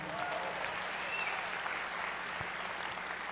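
A keynote audience at SXSW applauds a sign language interpreter, a dense, steady clatter of many hands filling a large hall for a few seconds.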